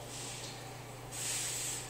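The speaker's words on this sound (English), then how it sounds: "I'm going to spray it with some food ready spray" Food-release spray misted onto a large 20 to 24 ounce pizza dough ball at a Dutchess DUT/DXM-SS pizza press, a soft steady hiss that swells louder midway, with a low machine hum underneath.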